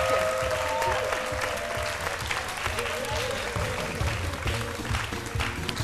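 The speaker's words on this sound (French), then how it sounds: "On la reçoit avec des applaudissements, cher public." A studio audience on a midday television show applauds a guest's arrival with continuous clapping, while music and some voices run underneath.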